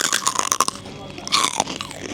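Crunchy Spanish pork rinds (torreznos) bitten and chewed up close, giving a run of sharp, crackling crunches that fade and then return in a second loud burst, with no talk over them.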